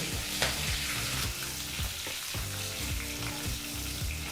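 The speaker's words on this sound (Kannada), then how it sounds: "ಹಸಿಮೆಣಸಿನಕಾಯಿ ಮತ್ತು ಕರಿಬೇವಿನ ಸೊಪ್ಪನ್ನು ಸಹ ಮೂವತ್ತು ಸೆಕೆಂಡುಗಳ ಕಾಲ ಬೆರೆಸಿ ಬಿಸಿ ಮಾಡ್ಕೋಬೇಕು" Green chillies and curry leaves fry in hot oil, giving a steady, close sizzle that runs without a break, with faint scraping as they are stirred.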